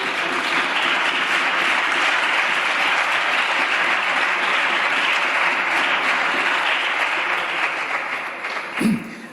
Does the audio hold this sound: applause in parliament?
yes